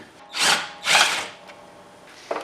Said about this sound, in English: Looks like I'm only going to be able to get 2 out with the impact wrench.